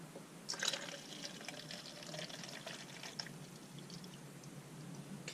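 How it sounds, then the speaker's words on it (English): Liquid pours steadily into a pot, a soft splashing gurgle that starts with a brief louder splash and then settles into a quiet stream. "I'm going to pour in to 12 ounces"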